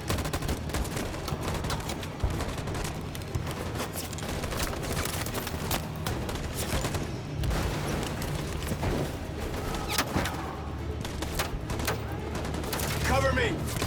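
Dense, crackling gunfire from the video game Detroit: Become Human, continuous volleys under shouting voices and combat noise throughout.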